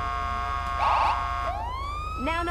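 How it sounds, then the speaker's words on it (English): A police car siren in GTA 5 wails with rising and falling tones, broken by a short horn-like blast before the siren sweeps back up, moderately loud over a steady low engine hum, with no voices. "it is possible to shift from the horn to the sirens and then back to the horn quickly, leaving your sirens on"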